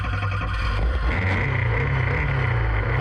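A race car engine at the Donington circuit runs with a steady, loud, low rumbling drone, buffeted by some wind noise and with no talking.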